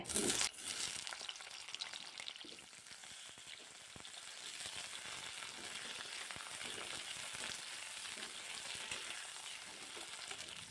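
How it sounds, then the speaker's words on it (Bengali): Eggplant pieces fry in oil in a wok, giving a continuous crackling sizzle that bursts loudly at first and then settles into a steady hiss lasting about ten seconds, with no speech. "একটু তেল আরও দিয়ে দেব কড়ার মধ্যে বেগুনগুলোকেও ভেজে নেব ঠিক একইভাবে"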